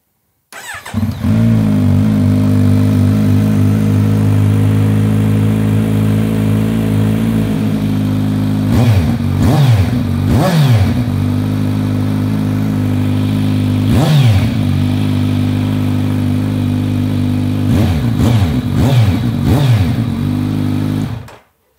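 A custom Kawasaki Vulcan motorcycle with an aftermarket exhaust fires up and settles into a loud, steady, deep idle close by, broken by several quick throttle blips and revs before cutting off.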